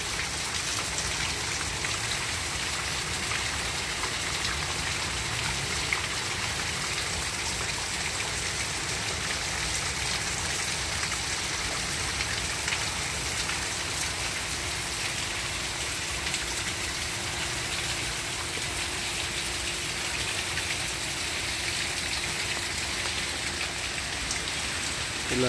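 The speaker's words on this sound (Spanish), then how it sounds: "Y aquí está cayendo aguacero." Steady, dense rainfall pours down continuously, a heavy downpour hissing on surfaces with no voices or breaks.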